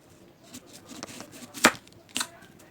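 A knife chops an onion on a board in a few scattered, soft strokes, with two sharper, louder cuts near the middle and end of a quiet stretch.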